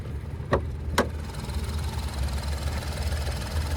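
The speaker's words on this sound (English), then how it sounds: "there's that VC turbo 3-cylinder" Nissan Rogue SV with a VC turbo 3-cylinder variable-compression engine idling, a steady low rumbling drone with two short sharp clicks early on.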